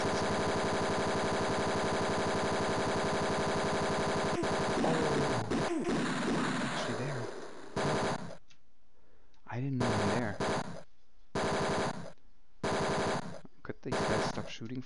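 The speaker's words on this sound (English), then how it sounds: "Shooting for a second." Retro gunfire from the 1989 computer game Tex Murphy: Mean Streets, a loud continuous machine-gun rattle that breaks into separate short bursts with gaps of silence between, synthetic and harsh in tone.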